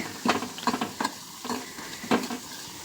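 Garlic fries in oil with a continuous low sizzle, punctuated by repeated stirring scrapes in an uneven rhythm, close up and without speech.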